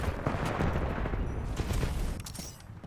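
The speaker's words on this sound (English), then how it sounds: "The pilot's shooting him." Gunfire in the shooter game Titanfall 2 as a pilot fires on a target, a dense continuous burst of rapid shots and booms that thins out near the end, loud and close.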